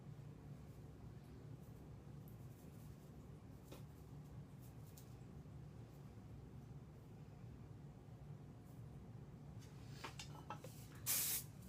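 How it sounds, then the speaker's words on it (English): A long stretch of faint room hiss ends with a single short, sharp burst from a hairspray can aimed at curled hair. "And then I take my hairspray"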